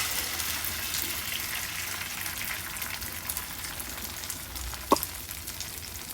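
Okra chops frying in hot oil on a flat tawa, a steady broadband sizzle with a brief sharp crackle near the end, alone without talk.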